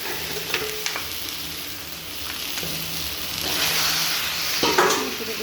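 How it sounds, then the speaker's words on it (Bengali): Spicy red chicken masala (kosha) with a pinch of sugar being stirred and fried in a pan, a steady sizzle broken by occasional scraping stirs, close and fairly loud, with no voices. "লাল ঝাল ঝাল চিকেন কষা করে নিচ্ছি।"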